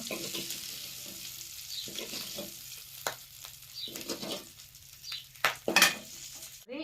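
Moringa drumsticks fry in oil with a soft sizzle, broken by intermittent scraping stirs and metallic clinks of a utensil against the pan, close and fairly quiet.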